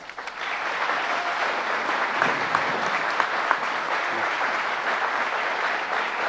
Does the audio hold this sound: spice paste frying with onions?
no